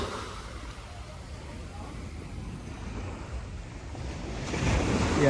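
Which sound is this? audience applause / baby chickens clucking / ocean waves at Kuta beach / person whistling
ocean waves at Kuta beach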